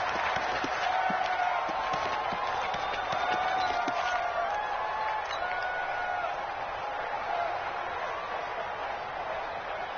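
Steady stadium crowd roar rising in a video game football broadcast near the end of a close game, a continuous wash of cheering and noise at moderate level without clear breaks.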